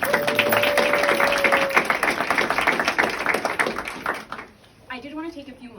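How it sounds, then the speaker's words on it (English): An audience gives a round of applause at a ribbon-cutting ceremony for a crisis stabilization program; dense, close clapping runs for about four seconds, fades, and then a person starts speaking. "So big round of applause for Daphne."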